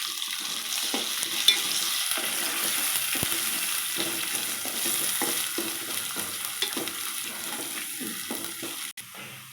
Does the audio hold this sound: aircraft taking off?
no